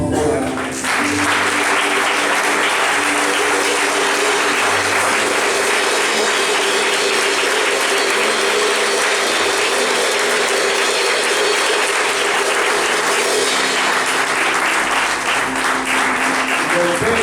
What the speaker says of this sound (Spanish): Si usted puede darle al Padre una ofrenda de aplauso, por favor, hágalo.